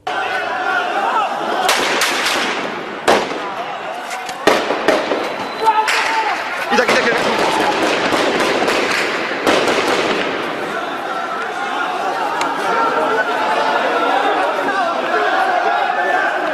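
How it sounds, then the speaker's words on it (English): Gunfire breaks out in the city of Idlib, loud cracking shots in irregular bursts echoing over a noisy street, with voices chattering underneath. "shooting breaks out moments after they leave"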